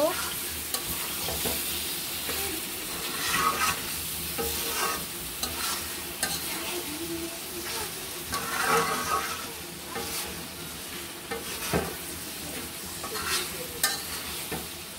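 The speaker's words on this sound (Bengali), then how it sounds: "এবার দিয়ে দিব আলু, মিশিয়ে নিব।" Potatoes are stirred into sizzling goat meat in a pan, a close, continuous frying crackle broken by scraping stirs and occasional clinks of the spoon against the pot.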